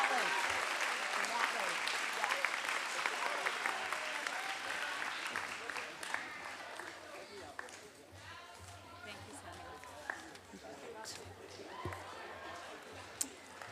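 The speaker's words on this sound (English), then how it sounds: "a big applause for all of these lovely kids as they're exiting the stage" Audience applauds steadily at a school awards ceremony as children exit the stage, a sustained wash of clapping with occasional cheers and murmured voices, easing slightly partway through.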